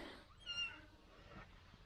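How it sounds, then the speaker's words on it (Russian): A cat lets out one short, faint meow in a quiet home setting, a brief thin cry over low background noise. "Кошка, кошка."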